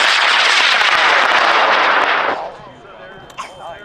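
A high-power rocket lifts off a launch pad at an outdoor rocket launch event with a loud, roaring hiss of rocket motor exhaust. It holds steady for about two seconds, then drops away abruptly, leaving faint background sounds and a short voice.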